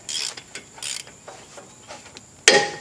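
A Toyota Sienna brake caliper bolt, being loosened during a front brake job, gives a series of short ratcheting mechanical clicks and then a sharp, loud crack as it pops loose near the end.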